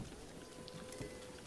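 Rain and a thunderstorm in the video game Breath of the Wild, a steady dense hiss of rainfall with a low rumbling undertone, faint and continuous.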